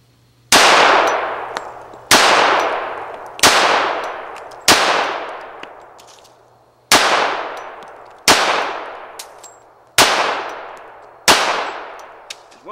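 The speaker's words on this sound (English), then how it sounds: "I just loaded in a fresh mag of the PMC 230 grain ball ammo, and we're going to do a recoil comparison" A Colt Combat Unit pistol fires PMC 230 grain ball ammunition in eight loud, sharp shots spaced about a second and a half apart, each with a ringing, decaying tail and no talking.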